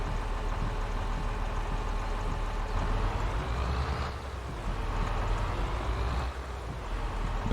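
A Challenger tractor in Farming Simulator 22 runs steadily with a deep, throaty exhaust rumble, close and continuous, dipping briefly in level a couple of times without any talk over it.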